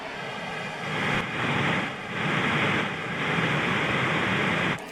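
Pink noise played through electric guitar pickups over an Xvive U2 wireless system with an extra 20 feet of cable gives a steady broadband hiss that swells and dips slightly in level, with no talk.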